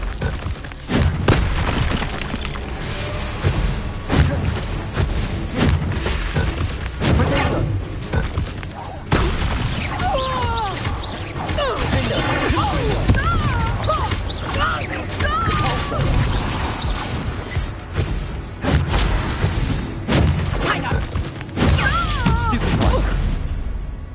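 Fiery Confringo spell blasts going off during a Hogwarts Legacy combat fight, repeated booming explosions and crashes in dense succession across the whole stretch, loud and near, with game character voices speaking over the battle.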